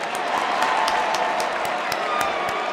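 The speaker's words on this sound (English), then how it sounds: "Come on, give yourselves a round of applause." A podcast audience applauds together in a room, dense steady clapping held at an even level for a few seconds with a few sharp claps standing out, no talking over it.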